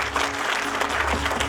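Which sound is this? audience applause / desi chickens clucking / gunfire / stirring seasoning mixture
audience applause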